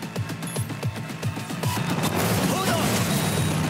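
Handgun fire in Cyberpunk 2077, a string of regularly spaced shots giving way to a louder continuous crashing barrage, with voices talking over it.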